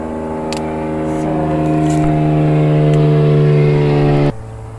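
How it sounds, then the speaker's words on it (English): An airplane passes overhead outdoors beside a finger lime tree. It makes a steady, droning engine hum that swells gradually, then cuts off abruptly near the end. "excuse the airplane noise."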